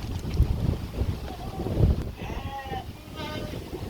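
Goats and lambs bleat on a farm in a few short wavering calls, mixed with breezy wind noise and low rustling close to the microphone.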